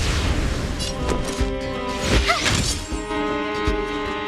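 An explosion in a video game, played during the Cocolia boss fight: a crashing detonation with a sharp rising whistle in the middle, heard over a dense, loud bed of game music and effects.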